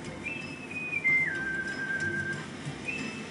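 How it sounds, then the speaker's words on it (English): A melodic whistle from the idle music of the video game Donkey Kong Country: Tropical Freeze glides between held notes, soft and clear over a quiet musical backing. "Oh, it's a nice little whistle."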